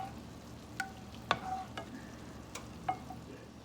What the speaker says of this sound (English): So you're going to go ahead and mix that in and let that come to a gentle boil.